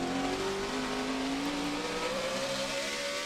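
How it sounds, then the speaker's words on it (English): NASCAR Sprint Cup race car at Martinsville in 2008, its engine note falling as the driver lifts off the throttle after the start-finish line, a loud sustained drone sliding smoothly downward with no talk. "You hear it get out of the throttle."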